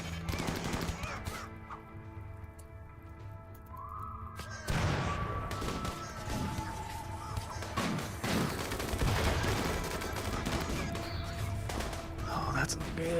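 Turrets fire in bursts in the Rimworld colony game: repeated rapid volleys of gunfire, fairly loud and continuous, with harsh cracks and other game noises mixed in.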